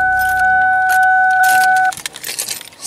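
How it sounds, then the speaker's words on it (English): Car keys jangle near the ignition as they are handled and put in, a clear metallic rattle in the first two seconds followed by softer clinks and handling noise, with two steady tones sounding throughout. "get your keys, turn the car off, just put them in the ignition"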